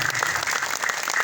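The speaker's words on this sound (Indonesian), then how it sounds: "di sini hadir Bapak Wakil Unan, tepuk tangan buat beliau selaku pimpinan dari pasukan" Crowd clapping at an evening dhikr gathering at an Islamic boarding school. The applause is brief, dense and steady, and no voices are heard over it.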